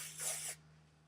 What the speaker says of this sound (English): So just spray a bunch of this through.